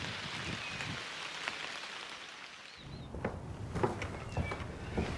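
Steady rain drumming on a corrugated iron roof in Australia, a dense even patter that drops away for about a second and then returns with scattered louder drops, heard from fairly close with no talking.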